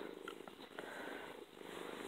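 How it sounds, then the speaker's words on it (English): A domestic cat purrs close and softly in a quiet room, a continuous low rhythmic rumble throughout. "The cat hath moved."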